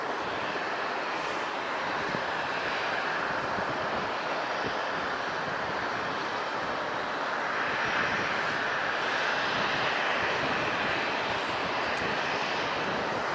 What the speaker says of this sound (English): We got a Southwest coming for takeoff.